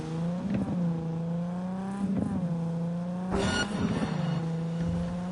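Several enemy cars in Cyberpunk 2077 roar in with rising engine revs and tire squeals, passing in repeated surges over a continuous steady hum, loud and close.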